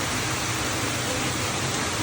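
Heavy rain from a Kalbaishakhi thunderstorm in Chittagong pours down in a dense, unbroken roar, loud and close with no pauses.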